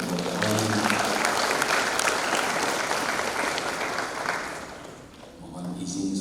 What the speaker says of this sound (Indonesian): Tepuk tangan buat Bapak Ibu orang tua.